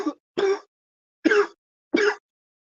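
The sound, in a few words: coughing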